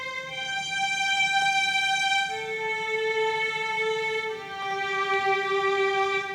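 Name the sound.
string quartet melody played back in music software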